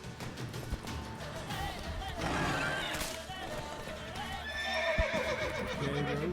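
Roach the horse whinnying in The Witcher 3, a loud drawn-out neigh mixed with hoof clops and game sounds, with someone talking over it.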